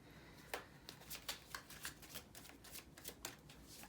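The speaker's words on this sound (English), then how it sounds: "I'm going to shuffle one more time" Tarot cards being shuffled by hand, a quiet run of soft riffling flicks and papery slaps in an irregular rhythm, close and alone with no talking.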